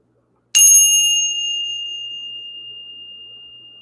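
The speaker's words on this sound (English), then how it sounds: "Let's ring the bell." A single bell strike rung to clear energy, a sharp metallic onset settling into a pure, sustained ring that fades slowly over several seconds in near silence.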